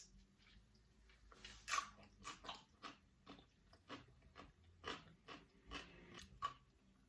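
Someone bites into and chews a crunchy dill pickle disc, a homemade vinegar-brined slice, producing a series of close, crisp crunches spread over several seconds with no talking.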